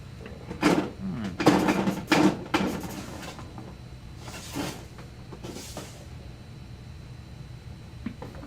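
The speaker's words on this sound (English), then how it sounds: "One of my drawers is stuck shut." A stuck drawer being forced open: a cluster of loud wooden scrapes and thumps early on, then a few quieter rattles and knocks spaced out afterward, close and alone without talk.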